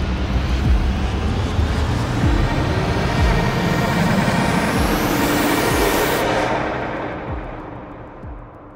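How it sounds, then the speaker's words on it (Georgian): Airplane engines at an airport roar loudly as a broad, continuous rush with a rising sweep, then fade steadily toward the end. "ამ დროს თვითმფრინავის ძრავების ხმა გესმის"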